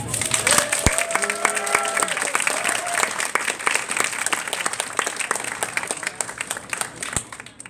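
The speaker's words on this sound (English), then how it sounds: "please can we have a big round of applause for Cherami Leigh" Crowd at SunnyCon 2018 gives sustained, loud applause with cheers for voice actress Cherami Leigh, a full wash of clapping lasting throughout with a few whoops and sharp individual claps.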